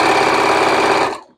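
Sewing machine stitching sashing onto a quilt block, a loud steady close mechanical whir that runs for about a second and then cuts off.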